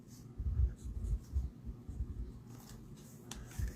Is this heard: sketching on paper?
yes